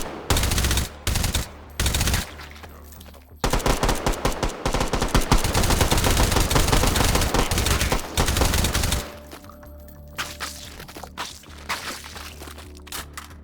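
Caseless automatic rifle firing in the VR shooter game H3VR: loud, close rapid bursts, a few short volleys followed by a long sustained stream of shots, then scattered clicks and handling noises.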